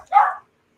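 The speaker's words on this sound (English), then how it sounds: "Yeah, the dog." A dog gives a single short bark, close and fairly loud, alone against silence.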